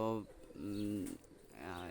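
Pakistani high flyer pigeons coo close by in three short, rolling calls with brief pauses between them.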